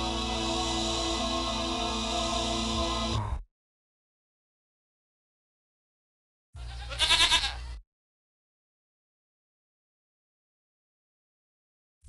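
A goat bleats in two separate calls, a long wavering bleat followed after silence by a shorter, sharper one, both close and clear with nothing else around them.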